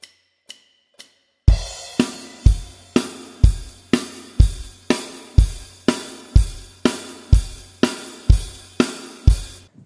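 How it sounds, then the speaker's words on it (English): A drum kit plays a steady 4-4 rock groove with eighth notes on the hi-hat, kick and snare alternating underneath, from a drum lesson. A few count-in clicks open before the beat starts, then it plays close and loud, evenly paced, with no talking. "the main beat is your classic 4-4 beat, where you're basically playing eighth notes on the hi-hat"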